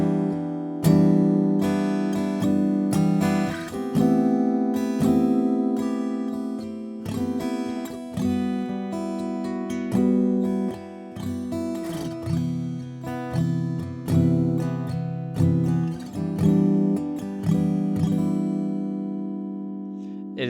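Jazz chords on guitar played against droning open strings, strummed in a steady rhythm of ringing attacks that decay and overlap, close and clear with no talking for about twenty seconds.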